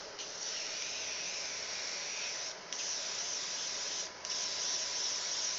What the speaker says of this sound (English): Let's get our airbrush ready to go.